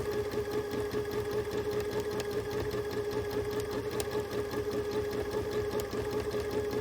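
A sewing machine runs continuously for free motion quilting, its needle stitching in a fast, even mechanical chatter with a steady motor hum, close and moderately loud with no talking.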